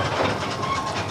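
A little railway train runs past with steady rumbling and rhythmic clickety-clack of wheels on track, close and fairly loud, with no voices.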